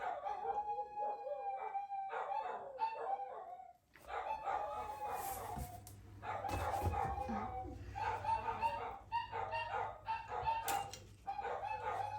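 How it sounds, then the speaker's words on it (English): Two Shih Tzu dogs bark and howl indoors in an art room, a steady run of yappy, high-pitched barks and whining howls that continue throughout at moderate distance. "Sorry about my dogs. They do that every time I'm in my art room."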